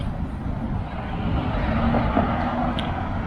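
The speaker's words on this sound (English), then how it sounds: "And this noise is all being generated by traffic, of course. Hear all these cars going by" Traffic at a busy outdoor intersection, a continuous low rumble of cars and heavier vehicles passing close by, rising slightly as vehicles go past.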